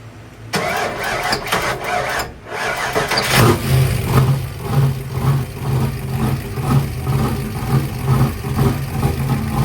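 An Isuzu Trooper engine running on speed-density tuning cranks briefly, then catches and settles into a loud, steady, slightly uneven idle with a rhythmic pulse, close by and with no talk over it.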